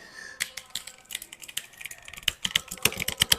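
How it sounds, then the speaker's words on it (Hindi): A computer keyboard with noisy keys is typed on in a steady run of sharp, close clicks that grow louder and denser toward the end, with no voices. "तो इसकी कीज को जब आप प्रेस करते हो, जैसे आपका नाम, किसी का संजय नाम है, संजय, तो जब आप इसको प्रेस करते हो तो आपकी क्या आती है, साउंड जनरेट होती है"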